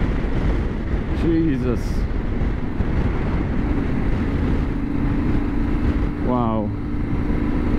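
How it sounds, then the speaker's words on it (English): Strong wind buffets and roars continuously at a ski jump spot, a loud, close, low rumble with brief exclamations from a voice over it. "The winds are strong, very strong here."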